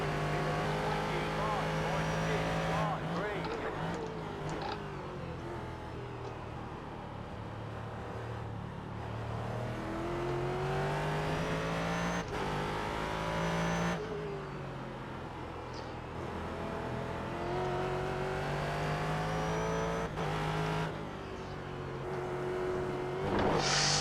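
Race car engines roar and shift pitch as a lapped McLaren, the 15 car, overtakes the 19 car in the iRacing sim, rising and falling through gear changes under a voice talking over the racing.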